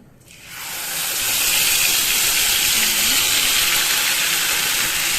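Ground spice paste hitting hot oil with cumin seeds, bursting into a loud, steady sizzle that swells within the first second and holds as a broad, continuous hiss.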